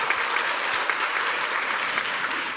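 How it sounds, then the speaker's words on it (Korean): A church congregation applauds the choir during a worship service, producing a brief, even burst of many hands clapping at moderate volume without a break. "여러분 성가대 격려의 박수 한번 좀 할까요?"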